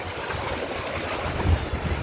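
Rough sea surf churns during Typhoon Uwan near a small fishing boat, a steady roar of waves and wind buffeting the microphone, with a slightly louder surge about two-thirds through.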